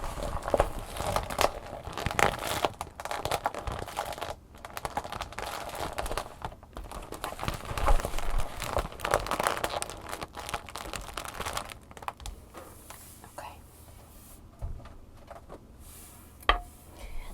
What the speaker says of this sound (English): for those of you who really like this plastic sound